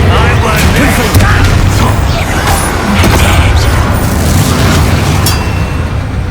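Confringo fire-spell blasts in the game Hogwarts Legacy, a dense run of booming explosions and bursts layered over constant battle noise, loud and close throughout with no clear pauses.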